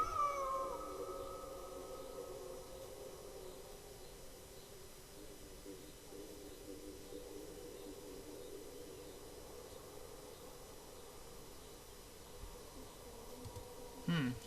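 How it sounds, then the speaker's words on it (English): A cat in the video game Kentucky Route 0 gives a long, drawn-out meow that slowly falls in pitch over a quiet, faint background hum, with a brief sharper sound near the end. "So just a meow there, that's fine."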